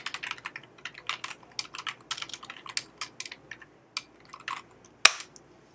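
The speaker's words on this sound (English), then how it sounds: "let me just type this in here" Rapid bursts of typing on a computer keyboard, close and crisp, with irregular clusters of keystrokes and a sharp final key press.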